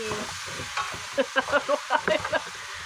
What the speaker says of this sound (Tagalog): Ayan, haluin lang natin ng haluin.